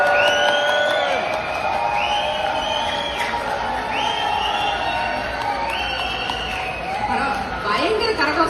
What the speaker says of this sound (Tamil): பயங்கர கரகோஷமா இருக்குது